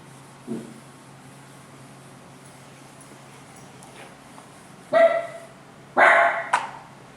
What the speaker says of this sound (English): It's our dog.